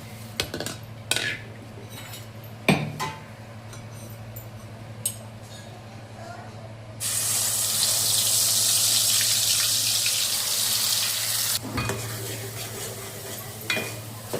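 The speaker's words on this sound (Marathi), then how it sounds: "आता तेल गरम झालेलं आहे, त्यात आपण मसाला आता परतून घेणार आहोत" Ground spice paste for a spicy mutton curry hitting hot oil, scattered clinks of a spoon on the pan, then a sudden steady hiss of frying that holds for several seconds before stirring resumes, close and without talk.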